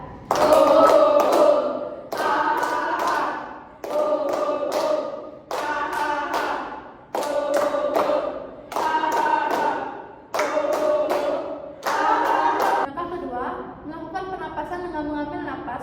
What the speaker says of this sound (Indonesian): pemanasan dengan tepuk tangan serentak semua peserta sambil mengucapkan ho ho ho ha ha ha